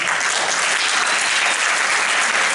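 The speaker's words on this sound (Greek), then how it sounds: "να δώσετε το πιο μεγάλο σας χειροκρότημα σε όλα αυτά τα παιδιά" Loud, dense applause from an audience at a school Christmas celebration honouring children, a steady unbroken wash of many hands clapping close by with no break.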